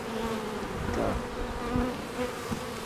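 A swarm of honey bees buzzes in a dense, steady drone, close and moderately quiet, with no voices over it.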